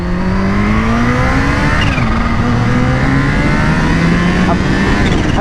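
A Kawasaki H2 supercharged motorcycle engine pulls hard in first gear at night, its loud rising whine climbing steadily under strong wind roar, with a brief pitch dip partway through.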